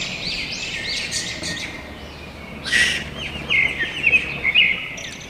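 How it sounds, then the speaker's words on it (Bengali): Small mynas feeding together in a yard give bright, sharp chirps and short squeaky calls in scattered bursts that grow livelier toward the end, heard close with no talking. "এটা চোট শালিক"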